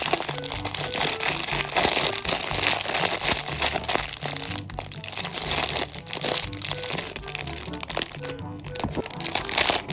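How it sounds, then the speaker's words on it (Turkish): Crinkly plastic packaging like a candy bag being torn open from a doll toy set, continuous close rustling and crackling throughout. "Böyle bir tane ambalaj var arkadaşlar. Şeker poşeti gibi. Bunu buradan açıyoruz."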